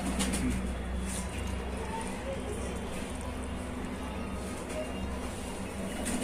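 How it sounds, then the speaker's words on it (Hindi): Large Shahjahanpuri Kaliyan pigeons cooing steadily in a loft, their low throaty calls running continuously under someone talking throughout. "बहुत ही बड़े साइज के कबूतर हैं"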